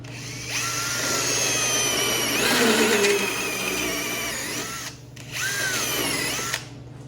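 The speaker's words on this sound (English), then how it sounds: "it drills it out really fast" Power drill boring out a front suspension part on a 1964 Ford Fairlane sedan, a loud continuous whine that rises under load, drops out briefly near the end, then spins up again.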